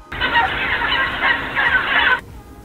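A burst of loud, rapid gobbling calls from several turkeys, sounding close, that stops abruptly after about two seconds.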